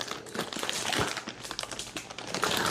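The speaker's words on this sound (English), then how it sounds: "let me go ahead and take the plastic bag off of it" A plastic bag is pulled off a boxed collectible doll, Defalucy Series 1 ICON model, giving continuous close crinkling and rustling of thin plastic with small crackly bursts, no talking.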